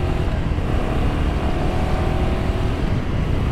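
A Royal Enfield Himalayan 450 motorcycle accelerates hard to overtake on an open moorland road, a loud, steady engine roar mixed with heavy wind rush and no talk.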